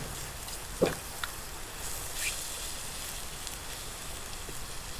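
Onion and carrot frying in a pan outdoors on a family camping trip, a soft steady sizzle with a few sharp pops and crackles early on.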